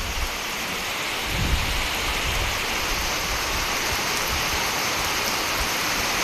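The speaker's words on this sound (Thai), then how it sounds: "ฝนตกเอาแท้เอาว่า" Heavy rain pours steadily during a days-long storm in Laos, a dense continuous hiss with a low rumble of thunder swelling in after the first second, loud and close, with no voices.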